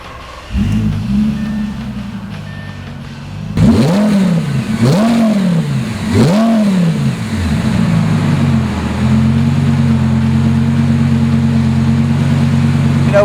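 A 2005 Lamborghini Gallardo V10 cranks and fires, then revs sharply three times before settling into a steady, loud idle.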